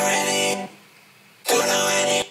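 Two vocals and a synth routed through a vocoder: a bright, buzzy robotic chord held for about half a second, a brief pause, then another held chord, alone without talk.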